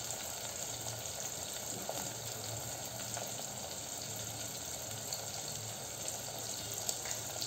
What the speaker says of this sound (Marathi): ह्या टोमॅटोच्या फोडी यामध्ये मिक्स होऊन छान परतल्या जातील